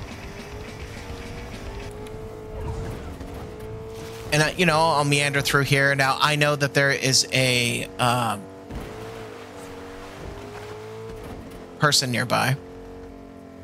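A steady low engine drone from a video game truck runs throughout while someone talks over it, with a few louder, harsher bursts partway through.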